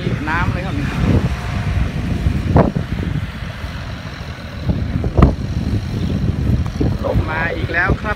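Wind buffets the microphone while a Yanmar tractor does rotary tilling through water and mud in a flooded field, a rough low rumble that swells in gusts with a sharp thump midway.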